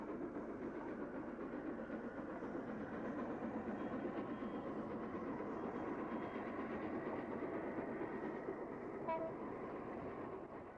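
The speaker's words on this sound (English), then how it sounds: "This locomotive, Blue Peter, is preserved and is seen firstly in the last days of steam on British railways" LNER steam locomotive Blue Peter rumbles along on a demonstration run at the Didcot steam preservation centre, a steady rolling clatter of wheels and engine throughout, with a faint brief tone late on.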